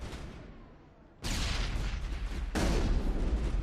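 Two loud, sudden blasts roughly a second apart from a grenade explosion in the Mass Effect video game, each a broad crash that rings on over steady game noise.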